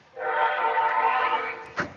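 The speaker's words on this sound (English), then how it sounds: "Oh, you guys are gonna hear this freaking train." A freight train rolls past in Chicago, a loud steady rumble with dense horn-like tones holding for over a second before easing, then a short sharp burst near the end; nobody talks over it.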